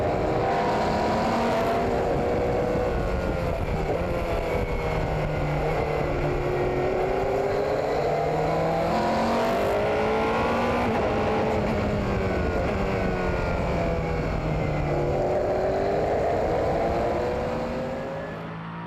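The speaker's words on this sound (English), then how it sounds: "Let's enjoy the sounds of the LMP2 machine around the Fuji Speedway." A 2014 Asian Le Mans Series LMP2 race car laps Fuji Speedway during the 3 Hours of Fuji, its engine droning loud and continuous with rising and falling pitch through gear changes and corners, never letting up.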